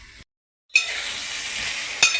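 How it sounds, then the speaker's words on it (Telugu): Ivy gourds frying in a pan give a close, steady sizzle that starts abruptly after a brief silence, with a sharp clink near the end. "ఇదేనండి దొండకాయలు ఇలాగా ఇలా వేగుతున్నాయండి దొండకాయలు."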